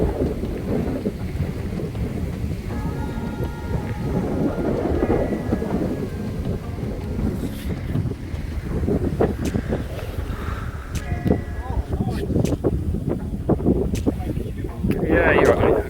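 Strong wind rips across a carp fishing lake at Willowcroft fisheries, buffeting the microphone with a constant loud, low roar and gusty rumbling, while voices are faintly heard underneath.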